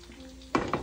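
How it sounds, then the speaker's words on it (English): Vegetables and rice being fried together in a pan give a sudden short burst of sizzling and stirring, close and fairly loud after a quiet start. "We'll be frying with the rice together."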